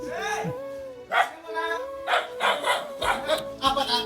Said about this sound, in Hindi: ये दे डॉग है।